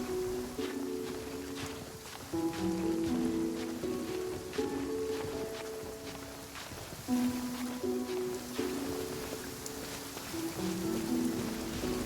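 Steady rain falls and patters across the whole stretch in the game Genshin Impact, mixed with a soft tonal music line and a few sharp ticks.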